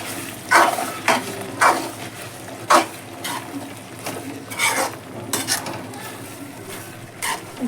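Mutton fry with onions and coconut powder is stirred in a pan, a series of close, rhythmic scraping and clattering strokes of a spoon over a light sizzle.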